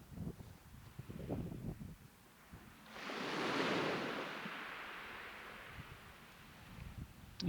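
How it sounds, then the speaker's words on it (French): A soft wave swell rises and recedes once, gentle and fairly distant, with faint rustling before and after. "Et on se laisse bercer par les vagues."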